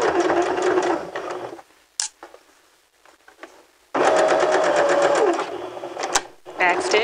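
A sewing machine runs in steady bursts while stitching and back-stitching a garment shoulder seam, loud and close, with a long pause in the middle and a voice talking over parts of it.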